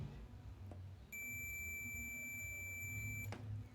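A multimeter sounds its continuity-test beep as the probes are shorted together, a single steady high tone lasting about two seconds over a quiet room.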